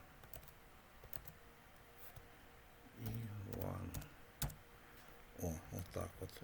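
Light clicking of keys on a computer keyboard while entering code, in quick irregular bursts, faint and close, with someone speaking at a low level in between.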